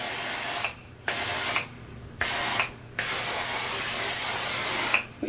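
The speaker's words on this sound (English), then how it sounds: "I'm going to go ahead and spray it with my Garnier Fructis Full and Plush Volume." Garnier Fructis Full and Plush Volume hairspray sprayed onto hair in several long, close hissing bursts, separated by short pauses, with no talking.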